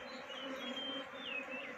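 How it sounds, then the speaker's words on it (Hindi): Dense, steady buzzing of many honeybees swarming as they move from a cowshed cupboard into a hive box, a continuous close drone with no talk. "अब देखो, ये ज़्यादा मधुमक्खी आ गई।"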